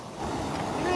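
A strong river current and waves rush in a continuous loud wash during net fishing, with wind buffeting the microphone throughout.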